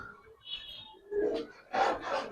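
Coloured Giribaz highflyer pigeons coo softly up close in a few short throaty bursts, with faint rustling between calls.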